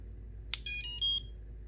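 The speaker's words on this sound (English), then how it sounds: "put power to the ESC, and it should just tone up the motors" A short click is followed by a rising sequence of clear electronic beeps from an FPV quadcopter's ESCs through its motors, then a brief second tone set, over a low steady hum.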